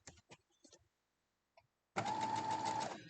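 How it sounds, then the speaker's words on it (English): A sewing machine runs steadily for about a second, stitching a quilt block, after a few soft handling noises and a brief pause; the motor hum is close and even. "we're going to go back over and sew this up"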